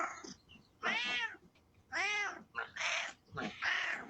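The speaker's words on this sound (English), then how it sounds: "This cat was letting his owner know that he wanted to come inside." A cat outside a door meows to be let in, several drawn-out, rising-and-falling cries in a row, fairly close with short pauses between them.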